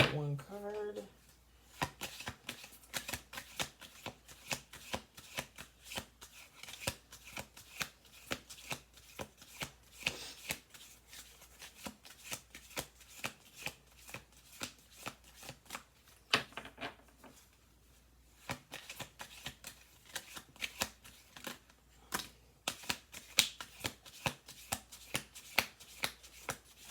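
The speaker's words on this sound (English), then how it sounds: "Two more shuffles." Oracle cards being shuffled by hand, a long run of quick crisp riffling slaps and flicks at close range, a little uneven in rhythm, with a few pauses.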